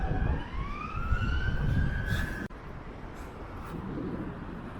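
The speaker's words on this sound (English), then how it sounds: "First siren of the day." A police car siren wails with rising, sweeping tones, moderately distant over steady outdoor traffic and wind noise, then cuts off abruptly partway through.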